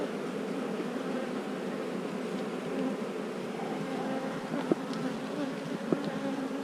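Honey bees buzz steadily around an open hive during a queen cell check, a dense continuous drone filling the whole stretch with a couple of brief knocks and no talk.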